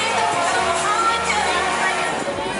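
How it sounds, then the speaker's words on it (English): A cruise ship audience at a food and wine show applauds steadily and densely the whole way through, with loud crowd noise and a few voices calling out over the clapping. "Massive round of applause."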